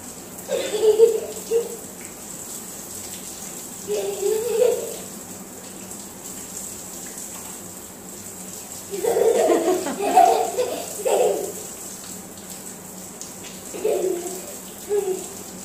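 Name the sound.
water running while a child is bathed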